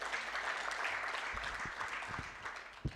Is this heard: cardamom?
no